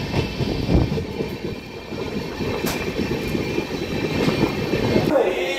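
The Howrah Barmer Express running at night, a steady loud rumble of carriages with rhythmic rattling and wheel clatter, heard from on board.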